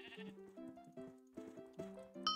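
Minecraft sheep bleat over and over as they are sheared, a quick run of stacked, tonal blats in tight succession, with a bright chime-like pickup sound near the end.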